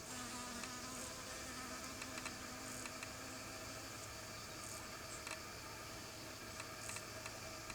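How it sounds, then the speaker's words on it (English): Bees buzz around cucumber flowers in a garden, a quiet steady hum with occasional louder passes as insects fly near. "Insects, mainly bees, pollinate cucumber flowers."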